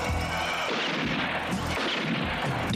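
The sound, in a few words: gunfire in a movie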